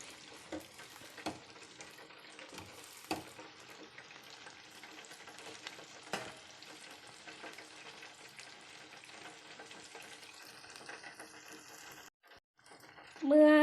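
Battered chicken deep-frying in hot oil, a steady close crackle and sizzle with occasional stirring clinks, fading briefly near the end before a short louder burst.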